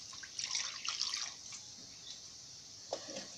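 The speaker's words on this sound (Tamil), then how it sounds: "ஒரு செம்பு அளவுக்கு ஃபஸ்ட்டு தண்ணி ஊற்றிக்கலாம்." Water poured from a small vessel onto mutton pieces in a pressure cooker, a quiet splashing trickle in short bursts with a brief splash near the end.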